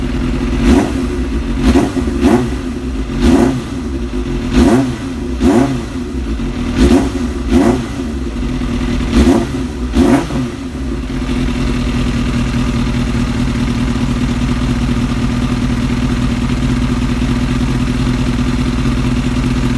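A Kawasaki ZX7R motorcycle engine, recently revived after six years of storage, is blipped through about ten sharp throttle revs before settling into a steady, loud idle that continues alone.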